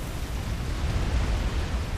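A Mantis unit explodes in the strategy game Supreme Commander: Forged Alliance, a continuous low, rumbling blast that rolls on for about two seconds at moderate volume.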